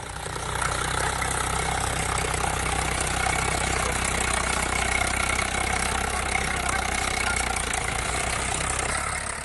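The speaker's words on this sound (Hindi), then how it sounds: "किसान अपने ही खेत में अपनी ही फसल पर ट्रैक्टर चलाकर उसे बर्बाद कर रहा है" Tractor engine running steadily in a vegetable field in Samastipur, Bihar, as a farmer ploughs under his own crop; a loud, continuous close-up idle drone with no voices.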